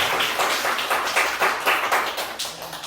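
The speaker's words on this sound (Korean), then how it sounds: "우리 박수로 한번 환영해 주시기 바랍니다." Congregation applauding in welcome during a Sunday church service, a steady continuous patter of many hands clapping with irregular peaks, fairly close and filling the room, no talk.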